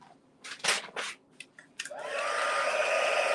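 A handheld heat tool warms freshly applied craft paint to set it, rising into a steady, close whooshing blow after a few brief handling clicks and taps.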